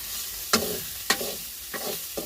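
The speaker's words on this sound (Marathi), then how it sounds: "मस्तपैकी असा मसाला भाजून घेतला" Masala for a village-style crab curry being stirred and roasted in a pan on a wood-fired stove, with four scraping stirs of the spoon over a soft sizzle.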